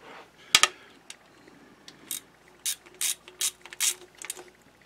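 A ratchet snugs up the transmission pan bolts on a 1997 Toyota Camry in short bursts of quick clicking, close and fairly quiet, with pauses between turns.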